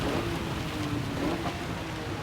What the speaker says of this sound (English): My word, it's getting really, really rainy.